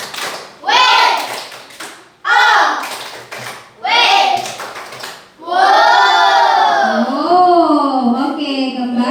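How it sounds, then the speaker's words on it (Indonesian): A classroom group of children performs a rhythmic patterned clap chant, three loud bursts of clapping followed by children's voices calling out together, close and energetic. "Kita berikan tepuk wow untuk kelompok kuning."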